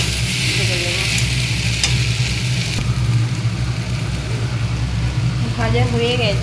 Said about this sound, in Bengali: এবার এতে দিয়ে দেব গরম জল বসিয়ে দিচ্ছি। এই গরম জলটা এতে ঢেলে দেবো।